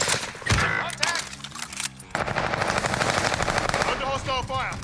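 Rapid machine gun fire rattles in the Call of Duty: Vanguard video game, with close, sustained bursts and staccato shots layered together while people talk over the gunfire.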